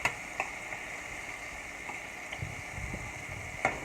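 Lobster pieces searing in a pan for stuffed lobster, a soft steady sizzle with a few faint ticks and pops, close and quiet, no talking.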